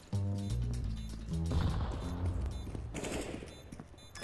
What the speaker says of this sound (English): Get ready to shoot.